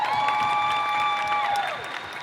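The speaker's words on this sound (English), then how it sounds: "give a round of applause for that" A convention panel audience applauding and cheering, a broad wash of clapping and crowd noise with a sustained tone running over it before the sound eases off near the end.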